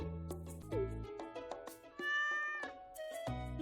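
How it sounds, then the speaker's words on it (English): A black stray cat meows in the Stardew Valley video game, several short tonal meows over gentle game music, with one longer drawn-out meow in the middle, close and clear. "Marnie was standing there with a black cat at her side."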